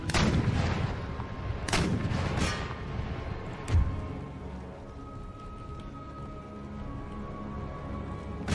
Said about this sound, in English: You bombard the Royal Cuirassier Guards, because they're the ones that will cause us problems.